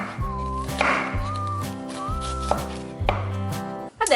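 Vegetables for a ragù alla Bolognese soffritto chopped by hand with a knife on a board: a fast, even run of close, crisp chops, with a faint whistle-like tone over them.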